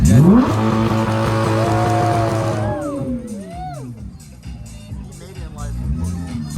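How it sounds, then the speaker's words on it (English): A car engine revs loudly at a crowded California car meet, a sustained roar that cuts off into falling tire-like squeals and whoops, while people talk and shout nearby. "You better rev it. I'm scared. I'm scared, bro. It's gonna rev it louder."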